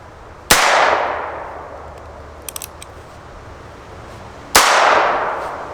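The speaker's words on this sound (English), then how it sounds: "Let's take our two shots. We'll see how the old Velocitor does." Two sharp gunshots from a short-barrel firearm shooting CCI Velocitor ammo, spaced about four seconds apart, each a loud crack with a fading ring, and faint metallic clicks in between.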